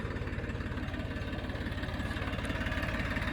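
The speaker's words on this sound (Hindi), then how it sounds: "ट्रैक्टर चालू है, और चलते हैं।" A farm tractor engine idles steadily up close, a continuous low rhythmic chugging and knocking that holds at an even loudness throughout with no voices.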